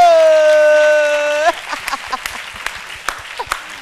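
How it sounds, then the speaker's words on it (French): At a children's summer programme launch, a long sustained tonal note gives way to scattered, uneven clapping from the audience, sparse and fairly close, with faint voices underneath. "avec la vache Yo-Yo et tonton Pipo, on applaudit pour eux"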